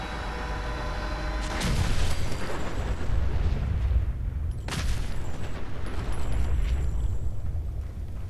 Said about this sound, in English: And now it's going to blow up. Fire in the hole, Longfellow!